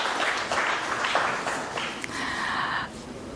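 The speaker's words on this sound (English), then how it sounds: "A huge round of applause to ma'am and her team." Audience applause at an investiture ceremony for a managing committee, steady dense clapping from a crowd filling the hall throughout, tapering slightly near the end.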